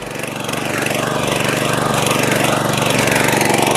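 A power weeder fitted with shock absorbers runs steadily with its rotor working eight to nine inches deep in farm soil, giving a loud, continuous engine drone with a fast, even throb and no talk over it.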